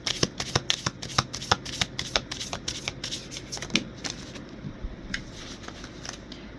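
Tarot cards being shuffled and handled during a reading, a quick series of crisp riffling snaps and flicks close by, thinning out toward the end with a few softer taps.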